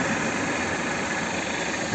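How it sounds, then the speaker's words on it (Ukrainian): A 2015 Jeep Patriot with a 2.4-litre petrol engine and automatic gearbox idles nearby, giving a steady, even hum with a faint mechanical rattle and no speech. "Ось робота двигуна."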